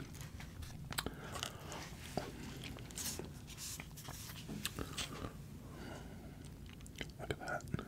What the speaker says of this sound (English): Let's try the chili cheese fries, which are looking bomb.